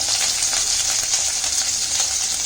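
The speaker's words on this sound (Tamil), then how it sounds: "நம்ம இதுக்கு தேவையான அளவு பச்சை மிளகாய் போட்டுடலாங்க. கருவேப்பிலை போட்டுக்கலாம்." Green chillies and curry leaves frying in hot oil, a steady, close hiss and crackle that runs evenly throughout with no talk.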